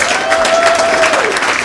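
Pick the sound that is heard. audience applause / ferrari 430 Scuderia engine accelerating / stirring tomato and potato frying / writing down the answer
audience applause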